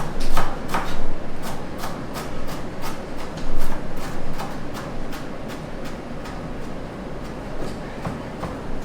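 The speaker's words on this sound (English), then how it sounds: "Just basically chop it. You can use the stems. Chop it fine." Steady rapid knife chopping of fresh herbs with their stems on a cutting board, a dense run of close, sharp cuts repeating evenly throughout.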